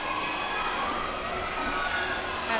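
Crowd noise at a women's college gymnastics meet between UNH and George Washington, a steady roar of cheering spectators filling the arena, continuous and fairly loud with no clear rhythm of chanting.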